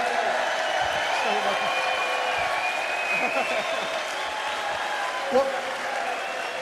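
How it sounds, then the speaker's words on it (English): A darts crowd at the 2015 Players Championship final claps in sustained, dense applause that fills the hall steadily, with a voice speaking over it near the end. "Well, you can hear the applause, Adrian."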